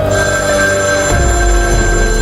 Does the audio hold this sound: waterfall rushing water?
no